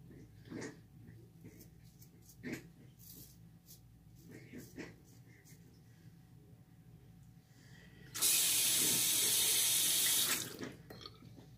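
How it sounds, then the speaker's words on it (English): Running shower water with a cat lapping at it stays faint in the background; about two seconds of louder, steady water rushing near the end. "That noise you hear in the background is just my cat drinking the shower water."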